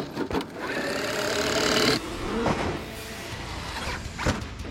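A Traxxas X-Maxx RC car drive shaft gives off a rough, whirring mechanical grind with a few sharp clicks, fairly faint and steady over several seconds, with no talking.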